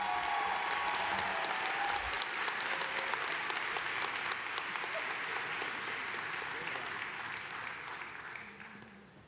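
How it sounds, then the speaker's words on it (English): An audience at a commencement ceremony applauds for doctoral candidates, with dense sustained clapping that fades slightly toward the end. "So please let us applaud the outstanding accomplishments of these doctoral candidates."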